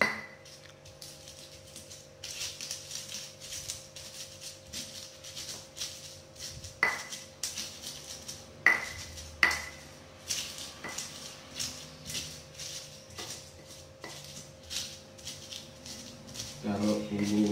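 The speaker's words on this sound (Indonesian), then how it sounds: "Sekarang mulai ngulek ya." Red chilies are ground in a stone mortar with a pestle, giving irregular knocks and scraping grinds at close range with quiet kitchen background noise between strikes.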